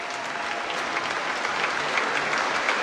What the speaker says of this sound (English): it is a standing ovation